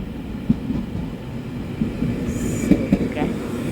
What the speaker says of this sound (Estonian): Seekord sõidan vähe kiirema ja nuubima rongiga.